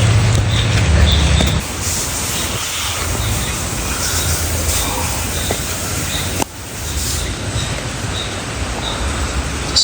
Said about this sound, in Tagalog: Sakto ang ulan.